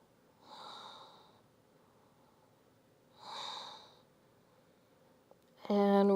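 Deep, slow breaths during a yoga stretch, two long audible exhales roughly three seconds apart, close and soft, followed by a brief louder burst at the end.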